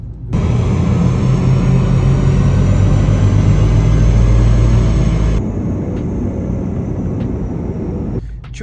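A Mercedes engine revs hard on a dyno during a power run, a loud, close, sustained roar held for several seconds before dropping to a lighter idle-like drone with a few faint clicks.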